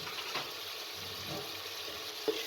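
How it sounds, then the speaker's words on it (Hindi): Garlic, ginger and spices fry for kaddu gosht over a medium flame, a quiet steady sizzle broken by a few soft stirring knocks and clinks. "तमाम चीज़ों को अच्छे तरीके से भून लें।"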